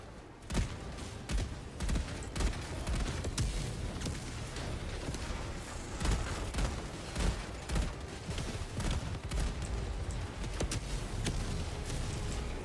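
Autocannon fire in the video game Helldivers 2 thumps in repeated heavy shots at an irregular rhythm over a busy battle din, moderately loud throughout.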